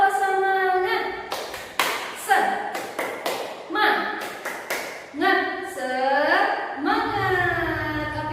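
A first-grade class claps out a rhythmic spirit clap, sharp grouped claps and desk taps in a steady pattern alternating with a teacher's spoken chant, close and clear.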